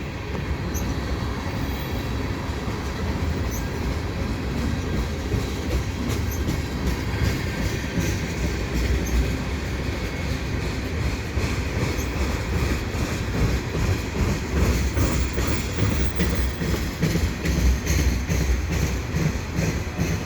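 An eastbound CN freight train rolls steadily past beneath the Dorval airport access ramps, a continuous rumble with rhythmic wheel clatter and faint squeals, heard at a moderate distance for the whole stretch.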